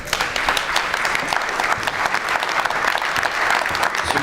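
An audience at a 2015 Aveyron awards ceremony applauds, honouring the 2014 titles. Loud, continuous clapping from a large crowd keeps an even, dense rhythm throughout, with only faint murmurs beneath.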